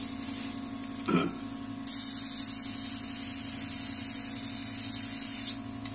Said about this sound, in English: Okay, so I'm going to spray the skin one more time.